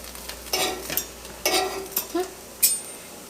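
Kitchen clatter of French toast sausage rolls being turned and cooked in a frying pan, with a handful of scraping and clinking bursts from a utensil against the pan over a faint sizzle, no talking.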